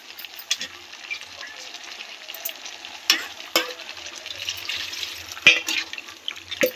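Mutton curry being stirred in a pressure cooker with coconut powder and water, giving soft scraping and wet sloshing strokes at irregular intervals under a faint steady sizzle, close by and quiet.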